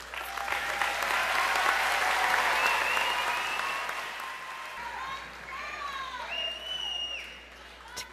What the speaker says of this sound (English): We need a thunderous round of applause.